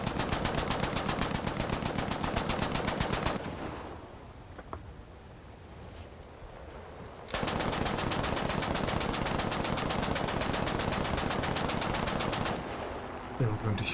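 7.7 machine guns firing in a video game, loud rapid continuous bursts close up, a short lull in the middle, then a second long sustained burst.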